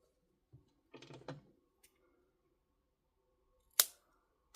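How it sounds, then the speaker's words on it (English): Scissors snipping crochet yarn for a two-strand scarf: a couple of soft clicks, then a sharp close cut near the end, alone in a quiet room. "then you can go ahead and cut your yarn"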